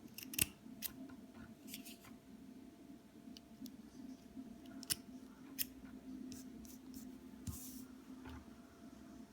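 Scissors snip cotton wick to size for a Bellus rebuildable vape coil: a handful of short, crisp cuts, close and fairly quiet, spaced irregularly over a soft background hum, with no talking.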